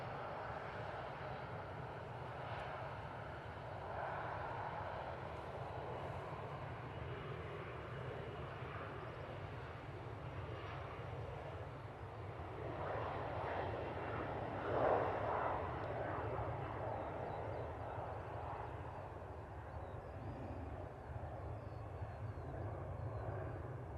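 A Loganair Embraer jet lines up and departs from runway 05 left at Manchester Airport, a steady, fairly distant engine roar that swells slightly midway through and holds without voices.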